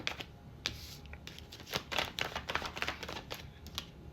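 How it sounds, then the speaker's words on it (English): A deck of tarot cards is shuffled close by: quiet, crisp riffling clicks and flutters in quick irregular bursts, with no talking. "One more shuffle."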